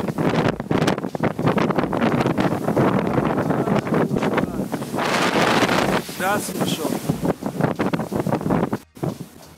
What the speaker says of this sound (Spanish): el barco se vio repentinamente atrapado en una violenta tormenta